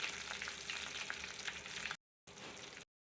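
Cumin seeds, curry leaves and two dried red chillies spit and crackle in hot oil for tamarind-leaf chutney tempering, a steady close sizzle that cuts out twice in brief silent gaps.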